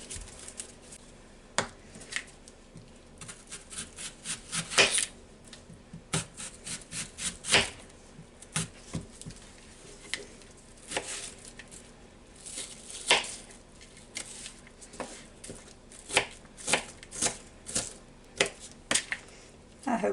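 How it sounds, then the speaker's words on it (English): Knife chopping a red onion on a board for a honeydew melon salad: a long run of crisp, close taps in quick uneven bursts, some louder strikes standing out, with no talk over it. "the next thing we do is cut up our red onion"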